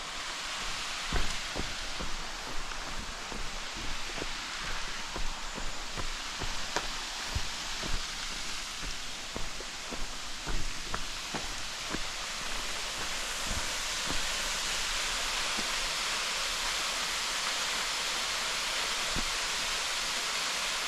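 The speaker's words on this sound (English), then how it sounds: "Falling Foss waterfall." Falling Foss waterfall on the North York Moors, a steady, loud broadband rush of falling water that continues alone throughout, with no voices heard.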